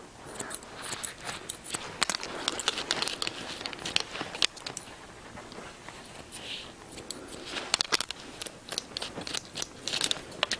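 Bonika hair shears cut hair with crisp, quiet snipping and crunching clicks in quick irregular bursts, close up and soft, with no talk over them.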